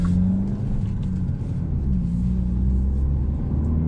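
A 2021 Hyundai Elantra N-Line with a manual gearbox driving on the road, its engine giving a steady low droning rumble with road noise, heard from inside the cabin and holding fairly even without clear revving.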